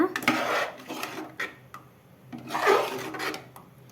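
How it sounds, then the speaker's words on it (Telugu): Jonna sangati, a thick sorghum porridge, stirred in a pot from the bottom up, giving rough scraping and rubbing strokes in uneven bursts, close up, with a voice talking over it. "ఇలా కింద నుంచి ఇలా బాగా కలుపుకోవాలండి"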